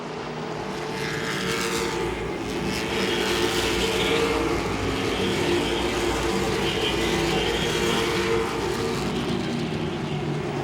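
Late model stock cars race at Langley Speedway, a continuous roaring engine drone from a passing pack that swells and holds steady for several seconds, heard alone without talk.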